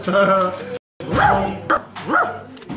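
A man imitates a dog, producing a series of loud, close barks and yelping woofs with brief pauses between them, voiced in a convincing canine manner.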